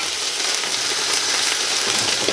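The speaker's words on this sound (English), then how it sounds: "The frying really shouldn't take that long because now the soup is completely dried out." Ox liver fries in a pan, its sauce cooked down, giving a steady, close crackling sizzle with small popping bursts throughout.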